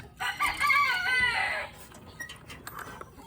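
A rooster crows loudly from inside a chicken coop, one long harmonic cock-a-doodle-doo, followed by scattered faint clucks and rustling as the small door is opened for the flock.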